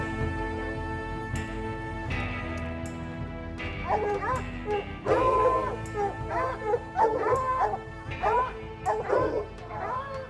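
Hunting dogs bark, yip and whine excitedly during a cougar chase in Utah, several overlapping calls rising in intensity near the end over steady outdoor background.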